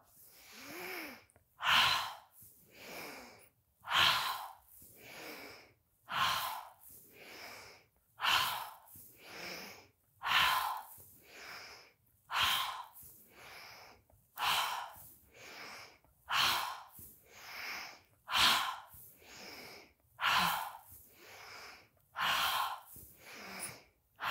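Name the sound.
audible exhales during kundalini yoga breathing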